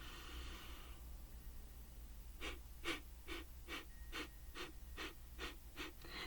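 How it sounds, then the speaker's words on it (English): Slow, deep breaths drawn in through the nose with the mouth closed during a spiritual guidance session, a long soft inhale followed by a quick series of about ten rhythmic breathy pulses, close and quiet. "so if you do it through your nose, it's kind of the same thing, but just close your mouth so you take in a deep breath"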